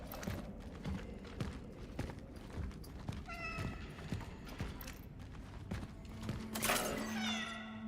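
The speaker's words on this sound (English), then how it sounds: "Is that the cat?" A cat meows in the sci-fi horror game Cronos: The New Dawn, with a few short harmonic cries around the middle and a louder one near the end, heard over steady rhythmic thuds and clopping footsteps.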